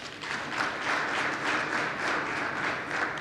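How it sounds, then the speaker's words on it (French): Sustained, dense applause from a crowd at a University of Parakou event, steady and fairly loud throughout without pause. "Des acclamations bien nourries pour saluer les nombreuses réalisations de l'équipe rectorale"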